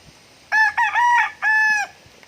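A rooster crows loudly and close by, one drawn-out cock-a-doodle-doo in several harmonic bursts, with quiet background before and after.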